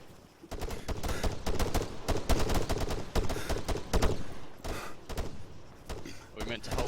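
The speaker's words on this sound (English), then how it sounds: "I can hear the MG." Rapid bursts of machine gun fire in the military shooter ARMA III ring out in dense, repeated volleys throughout. The shots are loud and close, with other gunfire mixed in and players talking over it.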